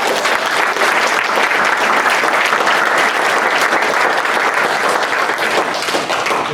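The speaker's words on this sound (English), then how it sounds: "Right, round of applause." An audience at a talk gives a dense, sustained round of applause, loud and continuous, with no voices over it.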